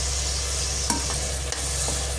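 Onions sautéing in a pan for prawn biryani give a steady, fairly loud sizzle, with a few scraping stirs of a spoon against the pan and no voices.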